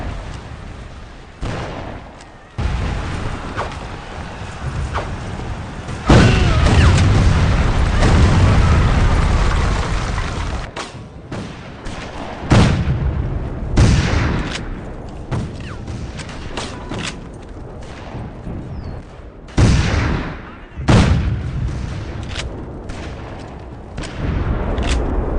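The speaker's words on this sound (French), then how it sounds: "Alors le fusil le plus intéressant, c'est le mousquet, comme vous pouvez le voir en ce moment" Period muskets fire in a Civil War video game, with repeated heavy booming shots and volleys at varied distances over a long stretch of battle noise, and no talk.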